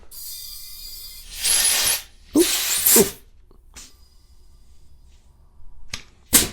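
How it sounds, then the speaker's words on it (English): A refillable pressurized sprayer hisses out engine oil in two or three short bursts, with quiet gaps between and a brief spurt at the end. "Why you'd want to spray engine oil on something"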